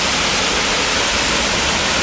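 The Devez waterfall in Aveyron roars close and loud, a dense unbroken rush of falling water with no voices over it.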